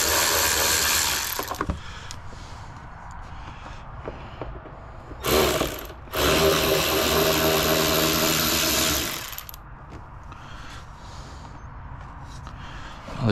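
A long ratchet with an extension works on the 8 mm bolts of a Jeep Cherokee KL airbox, making loud, close, continuous mechanical clicking and rasping that breaks off briefly twice, then returns quieter.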